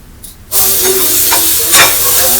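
Two medium onions, sliced lengthwise, fry loudly in a pan with a steady hiss that starts abruptly after a quiet half-second, with a few stirring scrapes underneath.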